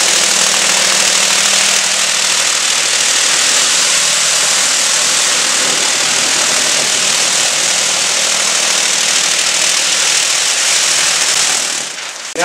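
RugBadger rug cleaning machine beating dirt out of a rug protected by Tyvek, a loud, steady, harsh mechanical roar with dense rattling vibration throughout, no voices, stopping abruptly at the end.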